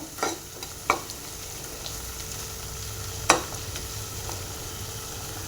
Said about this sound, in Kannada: ಇದೆಲ್ಲ ನೀಟಾಗಿ ಮಿಕ್ಸ್ ಮಾಡಿಕೊಂಡು ಆಯಿಲ್ ಸಪ್ರೇಟ್ ಆಗೋವರೆಗೂ ಇದನ್ನು ಫ್ರೈ ಮಾಡಬೇಕು ನಾವು